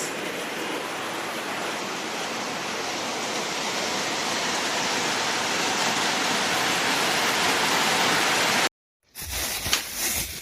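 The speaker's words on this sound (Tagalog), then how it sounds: "Usog na kay ulan guys." Heavy early-morning rain pours down in a dense, steady roar for about nine seconds, then cuts off abruptly and gives way to a short, rougher burst of noise.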